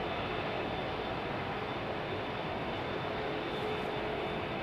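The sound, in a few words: airliner with Rolls-Royce Trent 900 engines rolling on takeoff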